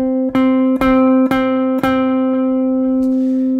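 A single plucked guitar note rings steadily while the string is struck hard several times, each attack producing a sharp buzzing snap before it fades.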